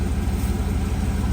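Original 305 high output V8 in a Chevrolet Camaro idling, a steady low rhythmic engine rumble with even pulsing, close and continuous with no talk.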